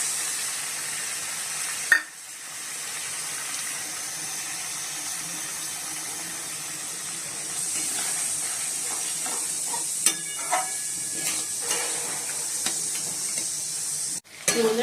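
A spice paste of ginger, garlic, turmeric, Kashmiri chilli powder and green chilli paste fries in a pan with a steady, close hiss and sizzle, with occasional stirring clinks and scrapes and a sharp clatter near the end.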